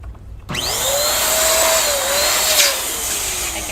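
An electric pump inflates black party balloons for a balloon garland, kicking in after a brief quiet start as a loud, steady motor whir with a rising, squealing whine that stretches and wavers as each balloon fills.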